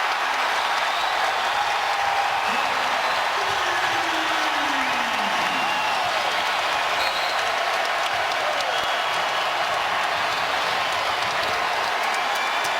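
A basketball arena crowd at a college game in Oklahoma State's home gym roars and applauds steadily for Marcus Smart, a dense, loud, unbroken wall of cheering throughout.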